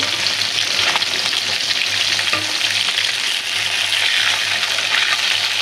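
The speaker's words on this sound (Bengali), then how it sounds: "এই যে আমার রুই মাছ সুন্দর করে একটু ভাজা হয়ে গেছে, আর একটু তেল দিয়ে দেবো" Rohu fish frying in hot oil in a pan, a steady, dense sizzle that stays loud and close throughout with no talk over it.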